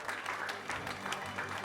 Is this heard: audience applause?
yes